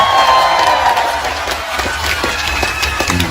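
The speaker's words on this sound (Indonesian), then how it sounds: "Hadir juga Zahirmania, tepuk tangan." A religious gathering crowd cheers and claps continuously, loud and close, with scattered shouts and whistles rising over a steady wash of applause.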